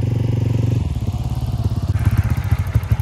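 Bajaj Freedom 125 CNG motorcycle idling up close, a loud steady single-cylinder putter with rapid rhythmic thumps that rise slightly in pace partway through.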